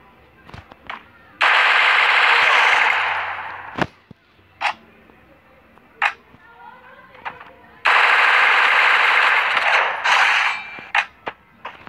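Two long bursts of rapid automatic gunfire, loud and close, separated by scattered single shots and quieter game effects.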